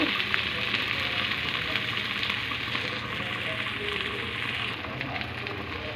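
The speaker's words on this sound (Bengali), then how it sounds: "তারপরে এখানে পেঁয়াজ কাঁচামরিচ দিয়ে চিংড়ি মাছ দিয়ে একটু হলুদ দিয়ে আবার আলু দিয়ে ভাজতেছি" Shrimp fry with onion, green chili, turmeric and potato in a pan for a bitter gourd dish, giving a continuous, even hiss of frying with no breaks and no voices.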